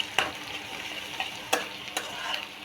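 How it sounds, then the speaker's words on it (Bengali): Sliced snake gourd and egg fry in a pan, a soft continuous sizzle broken by a few sharp scraping ticks of the spatula as it stirs, close by with no talking. "ডিম দিয়ে ভালো করে ভেজে নেব।"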